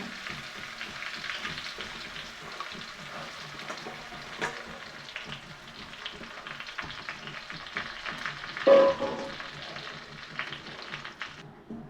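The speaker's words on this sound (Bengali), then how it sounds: "এখন 2 চামচ দিয়ে আমি কিন্তু ভালোভাবে ডালটাকে ভেজে নিব" Chana dal fries in ghee on a low flame for halua, a soft steady sizzle with light stirring scrapes, one louder knock near the end.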